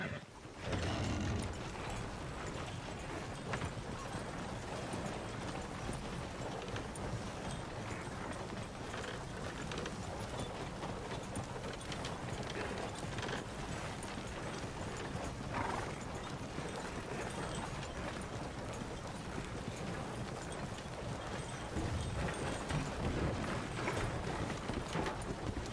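A horse is ridden in Red Dead Redemption 2, its hooves clip-clopping in a steady continuous rhythm with faint creaks of tack, at an even level under a dense game soundscape.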